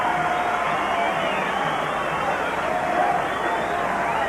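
A boxing arena crowd at the 1985 WBC heavyweight title fight between Larry Holmes and Michael Spinks keeps up a steady, dense roar and hubbub as the challenger arrives, with a commentator's voice running over it.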